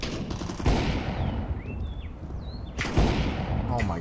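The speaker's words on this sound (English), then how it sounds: "Oh, he's got a shotgun." Gunfire exchange in Counter-Strike: Global Offensive, with loud broadband shotgun blasts near 0.7 s and 3 s over a continuous crackle of background firing and faint whistling effects.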